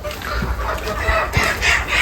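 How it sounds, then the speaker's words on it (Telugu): Country chickens and roosters cluck in a poultry yard, close and fairly loud, with short repeated calls over a busy background and a murmur of voices. "చూసుకోండి కోళ్ళు."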